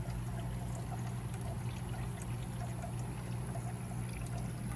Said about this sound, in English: I poured about 2/3 of the water in there now